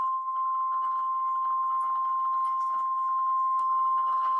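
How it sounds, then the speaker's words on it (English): NOAA Weather Radio warning alarm attention signal: a single steady, piercing tone held continuously and loudly, with faint broadcast noise beneath it. "This is a test of NOAA Radio's warning alarm system. The attention signals you just heard"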